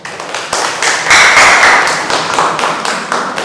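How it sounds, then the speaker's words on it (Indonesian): Classroom applause for a student group after a presentation, a burst of many hands clapping at close range that swells and then tapers off over a few seconds. "Silahkan sebelum duduk kita kasih aplaus dulu untuk kelompok 2."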